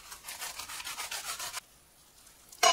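A serrated bread knife saws through flaky puff pastry with steady back-and-forth rasping strokes. The sound is close and fairly quiet, then stops abruptly, and no one speaks.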